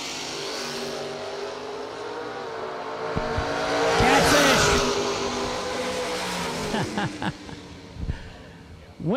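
Drag race cars, including a Chevrolet S10 pickup truck, launch at a strip, engines revving hard and building to a loud roar with tire noise, while an announcer talks over the action.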